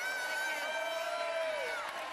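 A crowd at Bayside Bowl, a bowling alley in Portland, Maine, cheers and whoops through a dense, continuous roar with tonal music-like layers running beneath it.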